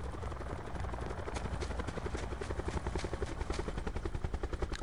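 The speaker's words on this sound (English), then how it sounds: "he comes through with a chopper like that" A helicopter in a PS4 video game chops along with a steady, loud, rhythmic thumping of rotor blades and an engine roar. The pulses grow more pronounced toward the end, with no talking over them.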